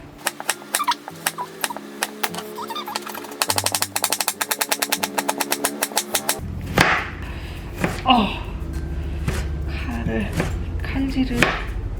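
Rapid knife chopping of vegetables on a cutting board, a quick steady run of sharp taps followed by slower, heavier cuts with some clatter.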